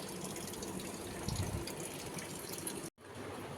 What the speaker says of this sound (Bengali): এই বাউন্ডারিটার মধ্যে জল পড়ে তো আমার ছাদের জলটা, যার জন্য এখান থেকে ছিটকে এইখানে আসে